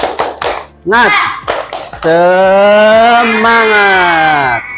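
Schoolchildren in a Islamic religious education class clap a short rhythmic 'tepuk semangat' pattern together, sharp quick claps near and loud, then break into a long sustained shouted chant of the word in unison.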